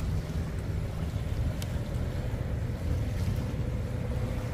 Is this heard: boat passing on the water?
yes